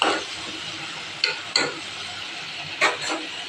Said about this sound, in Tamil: கொஞ்சம் மஞ்சத்தூள் மிளகாத்தூளும் போட்டு எண்ணெயிலே அப்படியே வேகுது பாருங்க